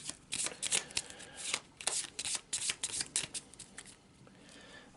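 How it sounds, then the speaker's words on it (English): Loot cards for a board game are shuffled up close, giving a flurry of crisp riffling and flicking bursts in uneven rhythm that thins out toward the end. "Shuffle up the loot cards again"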